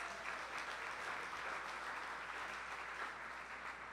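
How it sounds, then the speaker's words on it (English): An audience at a mayor's public remarks at a community kitchen gives a round of applause, even, continuous clapping heard from a moderate distance without voices. "Give them a big round of applause."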